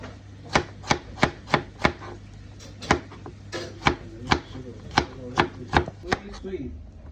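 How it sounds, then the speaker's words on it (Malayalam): A knife chops muskmelon into small pieces on a board with about a dozen crisp, close knocks, evenly paced at first and then slightly irregular, with no speech. "ചെറുതാക്കി അരിയണം."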